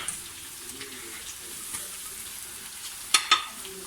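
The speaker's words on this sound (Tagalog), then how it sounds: "So now, add na natin itong sibuyas." Onion sizzles in a hot pan for sisig, a steady close frying hiss with faint stirring, broken near the end by two sharp utensil clacks.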